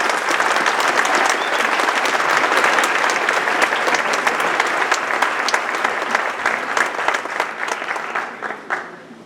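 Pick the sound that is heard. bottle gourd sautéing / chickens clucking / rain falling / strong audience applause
strong audience applause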